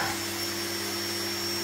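A new vacuum cleaner runs steadily with a strong motor whine and an even hum. It drones at a constant level with no pauses and no voices.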